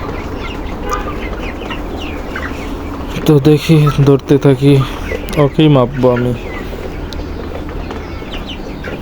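A lively chicken clucking and squawking in quick bursts while being chased and caught for weighing, loud and close, with someone talking before and around the calls.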